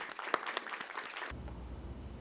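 A short burst of clapping from a small group, fairly faint, cutting off abruptly into a low hum.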